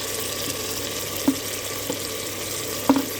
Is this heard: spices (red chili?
yes